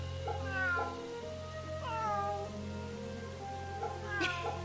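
A cat meows repeatedly as it is petted in the video game Fate/Samurai Remnant, several clear, close mews over a low steady background hum.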